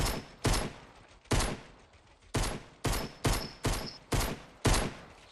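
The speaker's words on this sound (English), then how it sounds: "Oh my god, I hit him with the fucking pistol." Pistol gunfire in a multiplayer shooter video game, eight sharp single shots in an irregular rhythm, each loud and crisp with a brief decaying tail and no talk over them.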